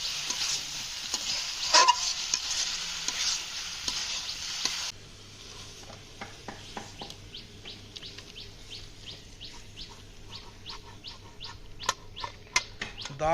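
Prawns and taro stems fry in a pan as they are stirred, a steady sizzle with repeated scraping strokes through the clip; birds chirp faintly in the background.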